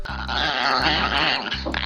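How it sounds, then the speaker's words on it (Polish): Small growls and grunts recorded from a chihuahua and used as baby dragon voices in How to Train Your Dragon, close and continuous over about two seconds, with breathy rasping textures and no speech. "Twórcy przyznali się, że do ich udźwiękowienia użyto dźwięków legendarnej chihuahuy Paco."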